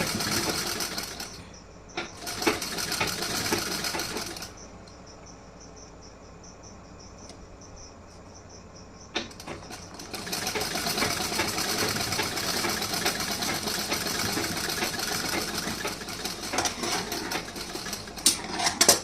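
A sewing machine stitches a blouse sleeve, its fault making the thread snap; the steady motor whirr runs in two stretches with a quieter pause between, close and moderately loud.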